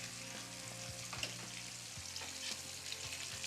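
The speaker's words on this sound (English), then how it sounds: "the bacon, you just need it to crisp up and cook so you can crumble it later" Bacon frying and crisping in a pan, a steady close hiss of sizzling fat with scattered pops and a few scraping stirs, a low hum running underneath throughout.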